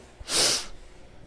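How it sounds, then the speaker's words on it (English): A single sharp nasal sniff from someone with a cold, a brief breathy hiss lasting about a third of a second, close and fairly loud against a quiet background. "I apologize for the sniffles."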